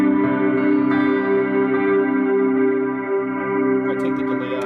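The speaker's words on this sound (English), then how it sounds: "just kind of a long reverb that's really beautiful to me" An electric guitar rings out through a long, lush reverb, the sustained chord washing on evenly with a dense, shimmering tail, loud and alone with no talk.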